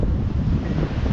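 Strong wind blowing through a Himalayan mountain valley between Beni and Jomsom in Nepal, a short burst of close, loud buffeting rush against the microphone, with no voices.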